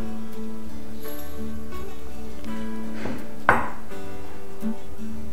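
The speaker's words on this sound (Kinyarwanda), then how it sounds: "Anza gukata karoti, ndakata igice" A knife chops carrots in a home kitchen: a few sparse, soft cutting knocks against a board, with one sharper clack, faint under a steady background hum.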